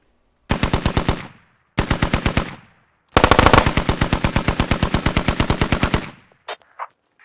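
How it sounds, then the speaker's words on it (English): A machine gun fires during a video game firefight in a palace, sounding as loud, close, rapid bursts: two short ones, then a long sustained stream, followed by a couple of faint distant shots. "It sounds like it's an absolute firefight in there. And I hear an MG."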